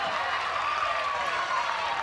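Cheering and clapping from a crowd at an NCAA softball game between Texas A&M and Arizona State, a steady distant wash of applause with a voice speaking over it.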